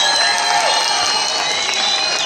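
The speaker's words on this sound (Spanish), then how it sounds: "me gustaría de verdad que ustedes les brindaran ese gran aplauso a" Audience applause and crowd cheering for veteran Caribbean musicians at a Bogotá tribute concert, a loud sustained roar of clapping and voices with bright tonal whistles or shouts layered over it.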